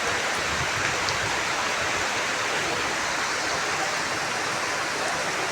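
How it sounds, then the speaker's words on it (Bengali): Heavy rain pours down steadily as a dense, continuous wash, close and loud throughout with no letup and no voices. "এই বৃষ্টির মধ্যে এত ঠান্ডা।"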